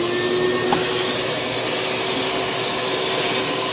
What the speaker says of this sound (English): Gotta have a vacuum cleaner.